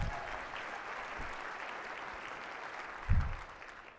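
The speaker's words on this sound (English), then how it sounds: "Give her a round of applause." An audience at an opening plenary session gives a round of applause, a soft, steady patter of many hands clapping at a distance, with one louder nearby clap near the end.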